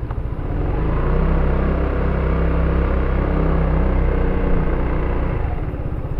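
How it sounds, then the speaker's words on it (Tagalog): An FKM maxi scooter engine droning steadily while riding, a loud, full, even rumble that holds constant throughout with no voices over it. "Buong buo yung tunog nung bike eh no."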